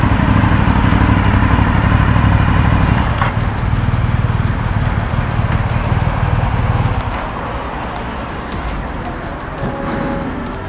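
A nearby Aprilia Shiver 900 motorcycle engine roars loudly, then the revs drop about two-thirds of the way through and it settles into a quieter idle.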